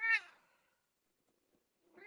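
A house cat gives a short, clear meow, then falls nearly silent before a second, softer meow starts up at the end. The cat is close by, with no talking.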